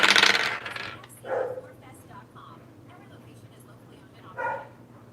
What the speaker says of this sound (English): You hear that dog barking back there?